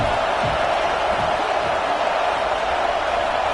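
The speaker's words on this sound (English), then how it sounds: "This crowd bringing the energy and noise early." A football stadium crowd sends up a dense, steady roar of cheering and noise that fills the whole moment, broad and sustained without clear breaks, and no talking stands out.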